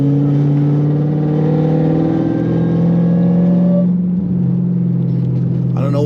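An 800+ horsepower Dodge Charger Hellcat cruises on a highway at night, its engine a loud, steady low drone with droning tonal whine, easing off near the end as a voice briefly begins.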